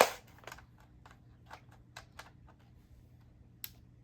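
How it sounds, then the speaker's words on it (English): A magazine slides into a Siren Blink half dart blaster with a series of light plastic clicks and taps, close and fairly quiet, with one sharper click near the end. "So let's put a mag in."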